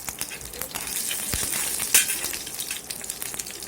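Cut dried red chillies hit hot oil with cumin, giving a soft steady sizzle with a brief metallic clink and a louder burst partway through.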